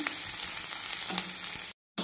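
Onions and raw green chillies fry in oil in a pan with a close, continuous crackling sizzle and a few soft stirring knocks, cut off by a short gap of silence near the end.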